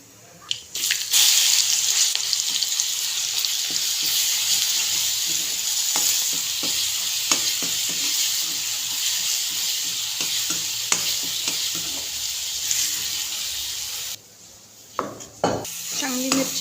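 Paste of green chilli, garlic and coriander frying with a little cumin in a hot pan sizzles loudly and steadily for the whole stretch, with occasional scraping and clinks from stirring, then briefly dies down near the end.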